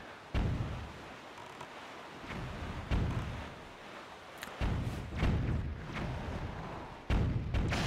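Bombs going off in Zelda: Wind Waker, a run of deep booming thuds at moments through the stretch, several separate blasts with rumbling tails in between, no voices over them.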